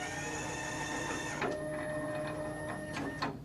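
A Kegel Kustodian ION bowling lane machine runs with a steady mechanical whir, and its pump switches on with a sharper hum and a few soft clicks and thuds partway through. No talking.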